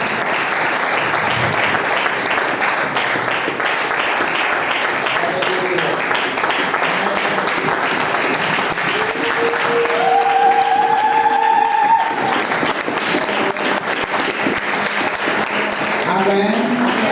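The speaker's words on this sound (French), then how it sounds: "Est-ce qu'on peut applaudir la parole de Dieu? Applaudissez, applaudissez, applaudissez très fort" A church congregation applauds loudly and continuously, a dense wash of clapping that fills the room, with voices calling out over it.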